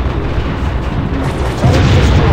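A turret blows apart in the space combat game Space Commander, a loud, rumbling low explosion that swells heavier near the end over steady background roar, with no speech.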